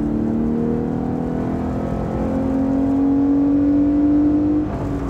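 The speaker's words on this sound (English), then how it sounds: "those cars are known for their amazing engine noise and induction noise" A 2018 Lexus IS 350 AWD F Sport engine and intake drone steadily from inside the car, holding a smooth rising pitch as it revs under load, loud and continuous with no talking.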